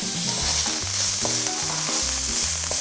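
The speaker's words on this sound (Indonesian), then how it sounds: "Terusnya kita tumis sehingga apa? Sehingga dia mengeluarkan bau." Ground onion, garlic and red chili sizzle loudly in hot vegetable oil, a steady close frying hiss with occasional stirring scrapes running throughout.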